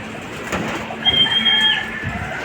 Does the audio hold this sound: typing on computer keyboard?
no